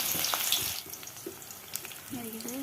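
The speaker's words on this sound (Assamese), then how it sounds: "পিঁয়াজখিনি ভালদৰে গোল্ডেন কালাৰ হোৱালৈকে ফ্ৰাই কৰি দিম" Onions fry in a hot kadai for an Assamese-style chicken curry, a bright hissing sizzle that is strongest at first and then settles into softer crackles and faint clinks, with a brief voice near the end.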